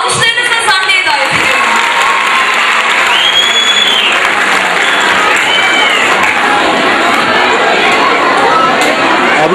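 Loud, dense applause from a school audience at an end-of-year festival as a 5th-grade student is invited on stage, with continuous clapping, cheering and children shouting throughout.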